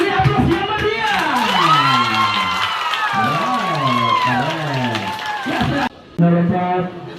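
Audience applause and cheering at a teacher award ceremony, heard as loud crowd noise beneath a strongly amplified voice with a melodic, sliding tone, with a brief cut near the end.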